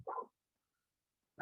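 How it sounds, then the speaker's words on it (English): A dog barks twice indoors during a remote meeting, a short burst at the start and another at the end, separated by silence; moderately close and fairly loud. "Sorry for my dog."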